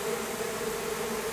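Honey bees buzz inside a makeshift shed, a continuous steady drone from many insects close by, with no voices over it.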